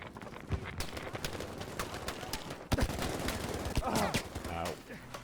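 Rapid SMG bursts ring out in Battlefield V, mixed with clattering battlefield noise, scattered shots and a brief voice, the firing steady and fairly close throughout.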